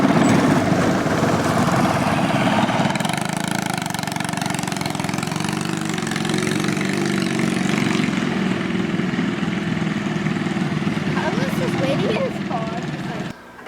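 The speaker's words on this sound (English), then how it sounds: "See if we can get this engine running. Oh, it'll run. It's a Honda, it never stops." A small Honda engine on a cyclekart runs steadily and loudly for several seconds, a constant mechanical drone, with people talking over it before it cuts out at the end.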